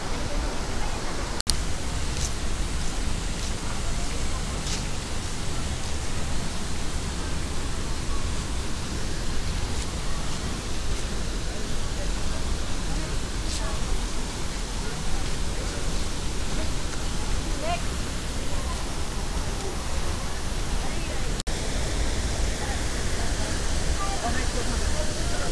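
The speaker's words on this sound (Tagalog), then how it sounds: "Ayan po yung falls." A waterfall on Camiguin island gives a steady, loud roar of rushing water that continues unbroken from start to finish.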